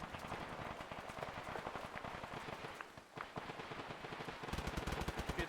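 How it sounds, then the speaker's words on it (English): Heavy machine gun fire in a multiplayer military shooter game, rapid sustained bursts with a brief pause near the middle, then a louder, closer stretch of fire at the end; no talking. "Heavy gun has opened up southwest."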